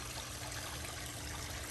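A leaking pump fitting on an aquarium trickles water steadily, making a continuous close wash of flowing water with no talking.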